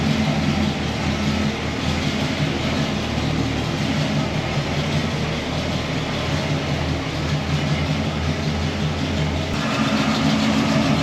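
An old project truck's engine, which still lacks headers, runs at a steady, loud idle-like rumble that holds even and continuous throughout.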